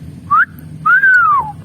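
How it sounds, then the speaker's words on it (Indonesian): Two clear human whistles used to call a friend, a short rising note followed by a longer arching tone, loud and close against a quiet background. "Spiderman juga memanggil temannya, kawannya, dengan siulan yang saktinya"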